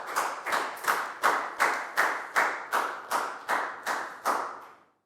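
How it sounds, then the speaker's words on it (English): Steady, evenly spaced claps ring out in a Year 4 maths classroom, about ten sharp hand claps over five seconds, close and fairly loud with no talking over them. "High five and a big round of applause for Prel,"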